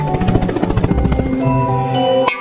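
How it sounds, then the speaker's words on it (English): A helicopter's rotor chops rapidly and steadily up close, the whirring thump fading into a mechanical whine at the end. "H is for helicopter."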